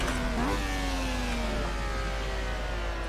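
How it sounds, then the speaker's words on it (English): A flat-12 Formula 1 car engine in the racing game Assetto Corsa, a steady tonal drone whose pitch rises briefly then sags and climbs again, heard continuously at moderate level with no talking. "I don't think this car has a V12. I think this is a flat 12."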